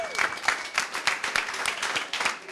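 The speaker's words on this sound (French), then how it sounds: "Applaudissements pour Crystal, s'il vous plaît." Applause from a live New Year's Eve television show audience, a brief steady patter of many clapping hands that fills the short span without pause.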